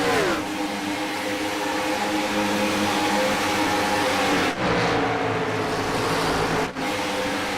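Stock cars of the Chopshop Gen 4 series race around a big wide track at Auto Club, giving a continuous engine roar with whining, shifting tones and two brief dips as cars pass.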